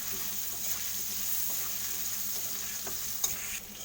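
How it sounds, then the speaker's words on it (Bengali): Potatoes with a little turmeric and salt fry in oil, making a soft, steady sizzle with faint crackles and one brief clink near the end. "যেগুলো লাল লাল করে ভেজে নেব।"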